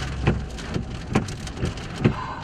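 Heavy rain pours from a rain-wrapped wedge tornado near Dimmitt, Texas, a dense steady hiss with periodic low thumps and rumbles from wind buffeting, loud and alone without voices.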